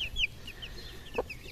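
Pekin bantam hens cluck softly in a small poultry breeding setup, with a string of short, high, chirpy calls and one lower cluck, fairly close over steady background noise.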